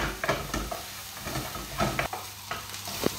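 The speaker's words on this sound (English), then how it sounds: "Let that fry off for 2 to 3 minutes." Onions and dried herbs frying in a pan for meatballs in tomato sauce, a low, even sizzle with several clacking stirs and scrapes close by and no voices.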